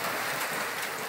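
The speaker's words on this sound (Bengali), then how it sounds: "এদিকে হবিগঞ্জে হয়েছে শিলাবৃষ্টি" Hail and rain pelting down in a storm in Habiganj, a dense, steady hiss of drops striking surfaces, loud and close for a brief moment with no voices.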